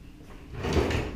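Kitchen drawer in a stylish rented apartment sliding open or shut, a single soft rumbling slide that swells partway through and ends with a light knock, close by with no talk.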